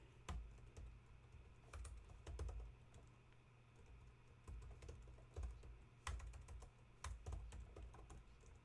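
Rapid, uneven keystrokes on a computer keyboard while code is written, close and clear with short pauses between bursts of typing and no talking.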